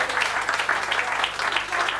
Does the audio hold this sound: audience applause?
yes